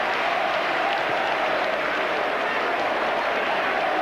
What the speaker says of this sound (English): The Wimbledon fans, though, giving him a bit of applause as well.